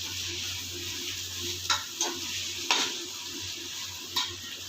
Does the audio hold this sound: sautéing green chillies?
yes